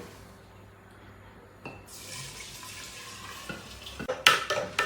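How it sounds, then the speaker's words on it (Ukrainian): An alcohol solution poured into an anise liqueur mixture, starting as a steady liquid stream and ending in a few sharp glass clinks; close and moderately loud, with no talking. "Ну і тепер додаємо спиртовий розчин, друзі, він вже готовий."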